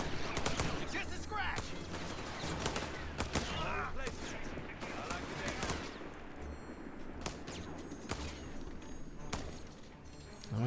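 An MG42 machine gun in a Company of Heroes–style strategy game fires repeated sharp bursts amid a dense battlefield of gunfire and thuds. The cracks come in irregular clusters, loud and close, over a constant noisy background.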